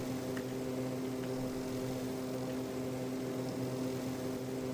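A propeller aircraft in the Extreme Landings Pro flight game drones steadily at cruise altitude, a constant faint engine hum with a tonal whine and no change across the stretch, with no speech over it.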